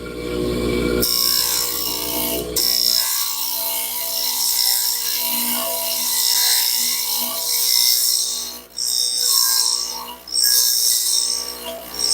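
A lathe chuck spins up to 3,600 RPM in a workshop. It gives a steady, fairly loud mechanical whir with a high-pitched whine that runs nearly the whole time and dips briefly near the end.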